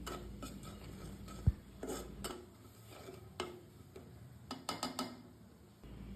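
Chili powder, salt and spices are stirred in a cooking pan with a utensil, quiet scrapes and sharp clinks against the metal coming at an irregular pace, close by.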